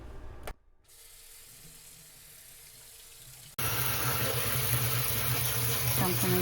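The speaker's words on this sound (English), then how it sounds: "So I'm going to give them a good rinse." Cold tap water runs steadily over fresh backyard figs in a sink, a quieter trickle first, then a louder, fuller gush of water splashing over the fruit.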